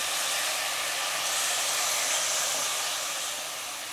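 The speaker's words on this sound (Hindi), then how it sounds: "चाँप को हमें ऑयल के साथ फ्राई करना है 2 से 3 मिनट।" Lamb chops, about 400 grams, sizzling in hot oil in a pan, a steady loud hiss that holds throughout and fades slightly toward the end, with no talking.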